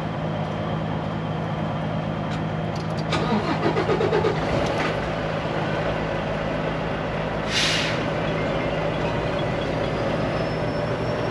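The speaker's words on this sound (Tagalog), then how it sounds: "just start the truck" A truck engine starting, heard as a cranking burst around a few seconds in before settling into a continuous low diesel rumble, with a brief hiss later; fairly loud and close.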